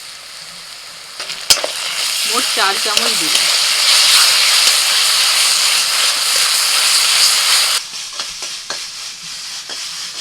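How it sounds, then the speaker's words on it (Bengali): Ginger, garlic and green chili paste frying with onions in hot oil, a loud continuous sizzle with stirring scrapes and clinks that drops away near the end, while someone speaks over it. "আদা রসুনটা পেঁয়াজের সাথে ভেজে নিয়েছি"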